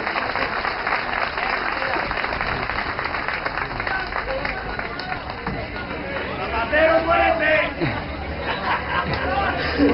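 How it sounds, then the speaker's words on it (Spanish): A crowd applauds at a Spanish middle-class protest rally in 2009, a sustained wash of clapping mixed with lively chatter and cheering voices, swelling louder near the end. "Un aplauso para María Muñoz, un ejemplo para la mayoría de las clases medias."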